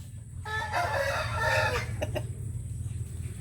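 Hens cluck and crow at close range in a backyard laying station for hens, a few brief calls over a steady low farm hum.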